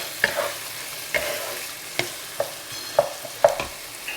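Semolina and frozen peas fry in a pan for upma under a constant hiss of sizzling, broken up by sharp scraping knocks of stirring at irregular intervals.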